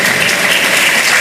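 Audience applause for Professor Fred Brutus at a university symposium in Jacmel Cathedral: steady, dense clapping from a crowd filling the space, loud and continuous throughout.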